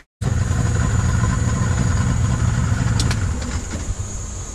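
A boat motor roars steadily at high revs on a river, loud and close, with a slight easing toward the end.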